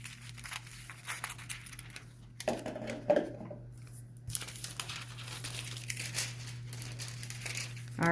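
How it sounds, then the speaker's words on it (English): Thin foil sheet cut for a craft panel, giving soft crinkling and snipping rustles at moderate closeness, with a few sharper crackles midway and steady low room hum underneath. "So I am going to cut the foil a little bit bigger than my panel."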